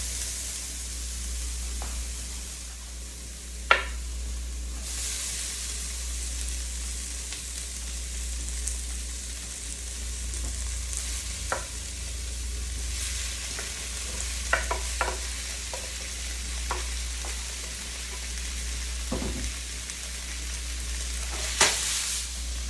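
Tofu and seasoning fry in a pan, giving a steady hiss with scattered sharper crackles and a few louder pops, close and continuous with no voices.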